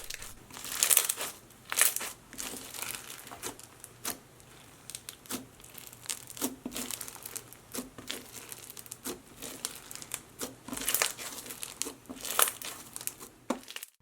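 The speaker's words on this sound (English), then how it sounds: "I absolutely loved the crunch of this slime" Crunchy slime mixed with slushy beads is squeezed and pressed, giving dense, continuous crackling and crinkling pops in close, irregular bursts for the whole stretch, with no talking.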